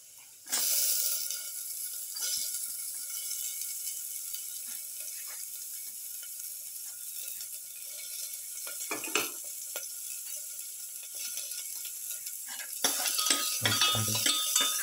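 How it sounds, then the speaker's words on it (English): Chopped shallot sizzling as it fries in a pan, a steady close crackling hiss that goes on throughout, with a few utensil clinks and a louder burst of stirring near the end. "Put in the shallot."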